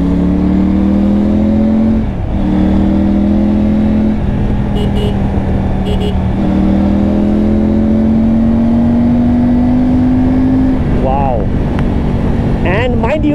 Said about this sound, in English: This Scorpion exhaust is almost 4 kgs lighter than the stock exhaust. Looks a lot more sleeker and sounds amazing, like you can hear right now.